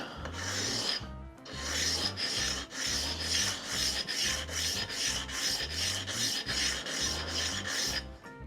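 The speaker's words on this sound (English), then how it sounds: "I'm gonna sand that down." Brass guitar nut being sanded on a leveling beam, a close, even rasping that repeats in regular back-and-forth strokes about once a second, with no talking.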